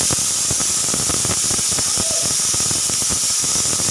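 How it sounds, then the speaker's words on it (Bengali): Steam hissing loudly and continuously from a pressure cooker boiling black kidney beans (rajma), a harsh unbroken spray-like hiss with a faint whistle. "তো রাসমাগুলো দেখো সিদ্ধ করি নিম প্রথমে।"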